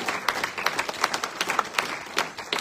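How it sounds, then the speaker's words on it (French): A church congregation applauds together, a dense, steady patter of many hands clapping at close range with no voices standing out. "Acclame d'abord pour toi-même."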